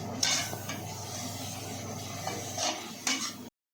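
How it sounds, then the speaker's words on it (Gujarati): Ground ginger, chili and garlic paste being stirred into softening onions and tomatoes in a pan, with a soft sizzle and a few brief scraping clinks of the spoon against the metal, close and quiet with no talking. "આદુ મરચાં લસણ જે પીસેલું છે તે નાખી દઈશું આ રીતે તેને પણ મિક્સ કરી લઈશું"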